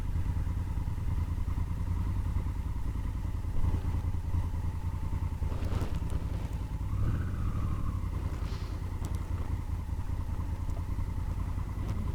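A 2017 Honda Africa Twin DCT motorcycle on a test ride, its engine holding a steady, loud drone close by throughout, with a brief rise in revs partway through and some clatter, no talking.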